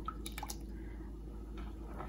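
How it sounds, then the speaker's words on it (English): Coconut chutney is stirred with water, giving a few soft wet squelches and drips up close, fairly quiet and brief with a low steady background hum. "Mix it nicely. It should be watery"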